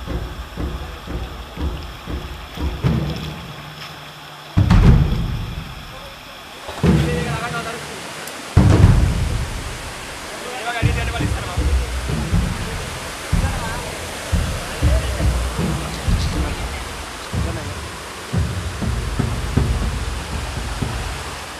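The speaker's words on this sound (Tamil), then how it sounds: "இந்த அருவியில் நீர்வரத்து அதிகமாக இருந்தது." A small forest waterfall with heavy flow after rain roars as a dense, steady rush of water, loud and close, with a few knocks and handling noises early on.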